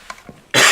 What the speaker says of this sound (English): Hopefully that cough was barely audible.